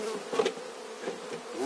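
Honeybees buzz in a close, steady hum while a hive is divided into new colonies in a fan-shaped split, with nobody talking.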